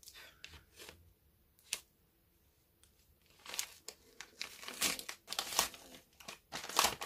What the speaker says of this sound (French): je vais ouvrir l'enveloppe